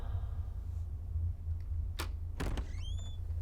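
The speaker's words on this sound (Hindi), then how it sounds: "रुक, मैं जाकर दरवाजा खोलता हूँ।" A door opens in a dubbed South Indian film scene, with a couple of quiet clunks and a short creak and rattle over low background hum, followed by a brief squeaky sliding tone.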